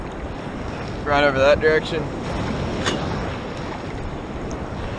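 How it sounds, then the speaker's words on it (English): Large ocean waves driven by Hurricane Irma roll in at Orange Beach, Alabama, as a steady wash of surf and wind buffeting the microphone, with a person briefly speaking over it. "So the waves are huge"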